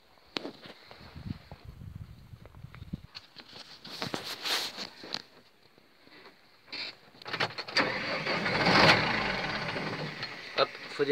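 A tractor engine makes a false start: a few sputtering cranks and bursts come first, then the motor catches and roars up into a louder, rough running sound, with scattered clatter but no clear talk.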